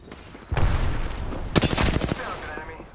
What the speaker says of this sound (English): And we're shooting.